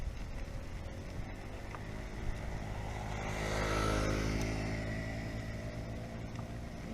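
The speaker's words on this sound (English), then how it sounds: "Oh, Joe, we got a motorbike." A motorbike approaches and passes on a trail, its engine drone swelling to a peak mid-pass then fading, heard over steady wind and riding noise from recumbent bicycles.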